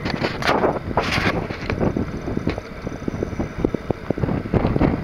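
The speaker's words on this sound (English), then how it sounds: "Major wind." Strong wind gusts across frozen ice at Marsh Creek, Pennsylvania, during ice fishing, buffeting the microphone with loud, continuous rumbling and flapping.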